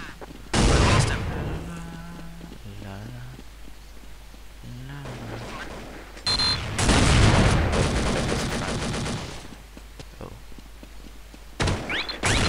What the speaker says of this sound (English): kill 3 enemies with Magnum sniper rifle